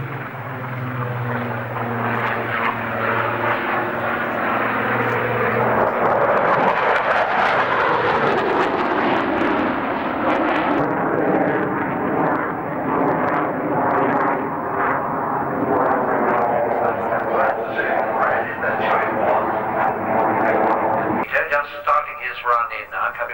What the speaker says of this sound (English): Top speed of the Mark 19 Spitfire was around 430 miles, very high level photographic DI work.